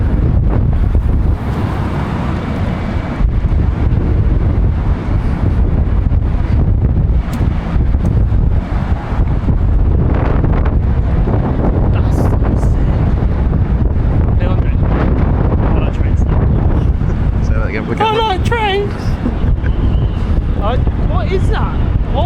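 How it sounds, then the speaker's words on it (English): Strong wind buffets the microphone on the High Line elevated park in Manhattan, a loud continuous roar with gusty low rumble throughout, joined near the end by a brief high chirping sound. "it was very windy."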